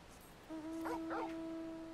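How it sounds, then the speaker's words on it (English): A dog companion in Final Fantasy XIV gives two short, high yipping barks in quick succession over a sustained synthetic tone, clear and close against a quiet game background. "Bark, bark, and then you can pet the dog."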